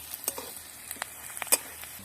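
Chopped green chillies sizzle in a pan while making kanda poha, a faint steady hiss broken by sharp crackles and pops, with the loudest snap near the end.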